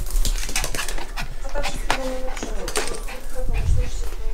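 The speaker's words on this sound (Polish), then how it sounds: "Zobaczcie, jak pies się cieszy, bo przyszedłem do domu." An excited pet dog greets someone arriving home, panting, whimpering and yipping in quick bursts close by, with a person talking over it at times.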